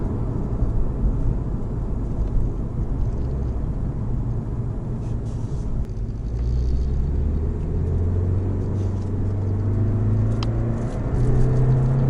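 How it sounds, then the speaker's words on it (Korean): BMW G30 520d diesel sedan accelerating in sport mode at low speed, a steady low engine and exhaust drone that rises in pitch toward the end, heard from inside the car with no talking. "저속에서 스포츠 모드를 놓고 가속할 때 이 배기음은"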